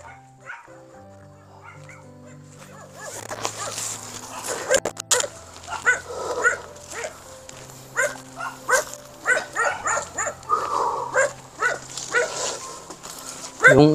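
Dog barking and yipping repeatedly at a rural home, close and loud bursts in an irregular rhythm, with people talking throughout.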